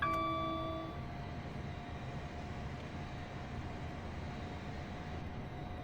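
Electric train in Train Sim World 2021 on the London to Portsmouth line, running at speed with a steady, sustained motor hum and rumble, several faint tonal whines above it, loud and continuous throughout with no talking.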